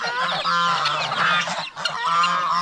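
Several geese honk loudly and repeatedly on a backyard farm, their calls overlapping in a dense, steady chorus with a brief dip midway.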